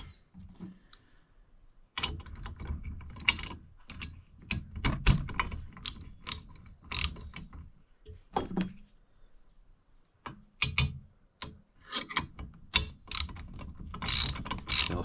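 A ratchet being cranked while mounting a Warn winch on a Polaris Talon, heard as bursts of sharp, rapid clicks in quick strokes separated by brief pauses, close and alone with no talking.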